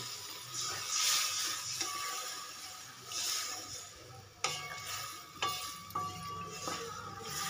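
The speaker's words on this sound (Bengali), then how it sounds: "এবার আমি দিয়ে দেবো জল।" Water is poured onto a fried spice paste in a cooking pan, and a sharp hiss gives way to a steady sizzle and bubbling. A spoon scrapes and clinks against the pan, and no one speaks.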